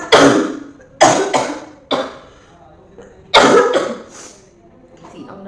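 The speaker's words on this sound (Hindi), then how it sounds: "इतनी ज़्यादा खांसी आ रही है कि मैं बता नहीं सकती आपको।" Several harsh coughs come in uneven bursts, close and loud, with short breathy gaps between them.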